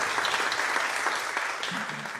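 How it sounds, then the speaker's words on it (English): Steady audience applause at an outdoor community celebration, a dense even patter of many hands clapping for the whole moment with barely any talk. "let's give this team a good round of applause for their wonderful work."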